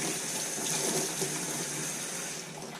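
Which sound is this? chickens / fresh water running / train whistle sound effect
fresh water running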